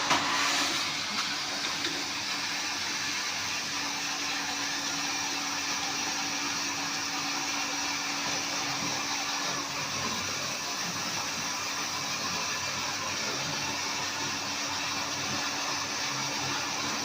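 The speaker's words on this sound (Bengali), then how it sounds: "এইটা হাই প্রেসার মোটর, এটা অন হয়ে গেছে" The high-pressure motor of an RO water purifier hums steadily for the whole stretch, a constant close whir with hissing water and no breaks.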